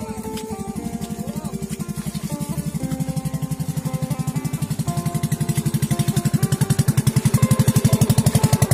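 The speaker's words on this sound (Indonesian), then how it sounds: "ada motor" A motorcycle engine runs steadily near a hillside rice field in Kalimantan, a pulsing low drone that builds slightly louder toward the end, with background music carrying over it and no talk.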